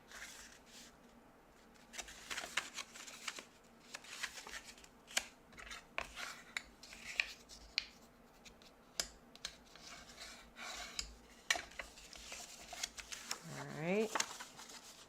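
Sheet of paper being folded for card making, with crisp papery rustles, creases and taps scattered irregularly under intermittent talk, ending in a brief rising scrape.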